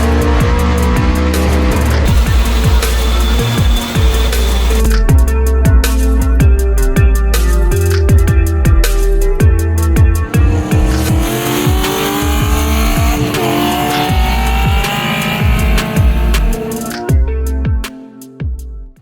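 A race car engine climbs hard through revs toward 6600 RPM, loud and close, with repeated rising pulls and gear changes, broken by short gaps as it lifts.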